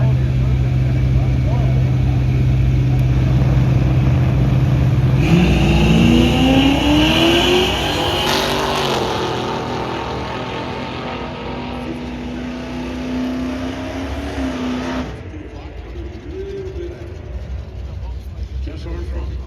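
Street-legal drag racing cars at a drag strip roar loudly, one engine revving up through rising pitch then holding a steady high drone before fading, with a constant loud background rumble throughout.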